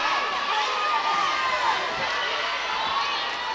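A high school volleyball crowd's cheering section at Slidell High School roars steadily, with dense, sustained shouting and cheering filling the gym and no clear breaks.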